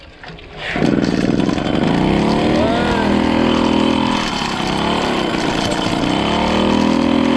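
A Solex moped fitted with electronic ignition starts after a brief rustle, then its small hot engine runs loud and close with a steady buzzing drone and slight pitch swells and dips as the throttle shifts.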